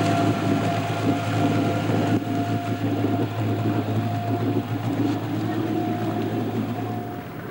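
Boat engines drone steadily in a lock on the Hjälmare Canal in Sweden as the boats are lifted, giving a close, continuous low rumble with a faint tonal hum.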